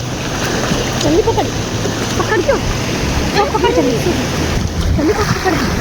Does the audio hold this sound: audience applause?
no